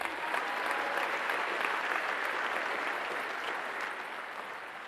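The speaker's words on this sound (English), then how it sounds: "Everyone, give me one more round of applause for our teachers here." An audience applauds teachers at a school event, a sustained, fairly distant round of clapping that stays even for several seconds and then tapers slightly.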